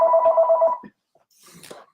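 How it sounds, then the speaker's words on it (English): A telephone rings with an incoming call, a loud steady electronic trill lasting under a second, followed by faint handling noise. "now I've got a phone call coming in"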